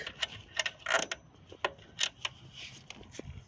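A bolt being unscrewed and removed from a metal bracket, giving a series of small, close ticking and clicking clicks in an irregular rhythm with no talk.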